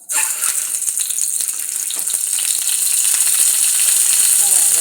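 Egg frying in a little oil in a deep pan over low heat, a steady bright sizzle that holds for the whole stretch, with faint clinks and dripping sounds scattered through it.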